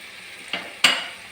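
A spoon scrapes and stirs fenugreek and asafoetida through citron (narthangai) pickle spices in a pan, giving two short scraping strokes over a soft sizzling background.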